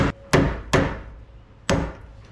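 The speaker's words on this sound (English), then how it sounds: "So just get a hammer and you're going to tap it off." Four sharp metallic hammer taps knocking off a trailer wheel hubcap, spaced unevenly, each ringing briefly before decaying, close and clear with no talking.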